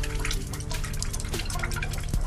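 An animated cartoon character pees into a toilet, a steady close trickle of liquid running for a couple of seconds with dripping splashes.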